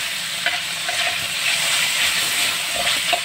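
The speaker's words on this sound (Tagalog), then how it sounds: "niluluto ko na yung binuro na karne" Salted fermented meat, part of a Taiwanese dish, sizzles steadily in a hot pan with a bright continuous hiss and a few faint pops, and nobody speaks.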